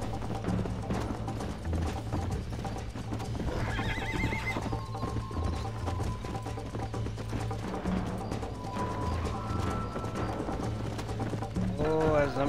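A horse in the Red Dead Redemption video game whinnies loudly several times over clip-clopping hooves and a low steady game soundscape, the neighs rising and falling in bursts while a voice briefly speaks.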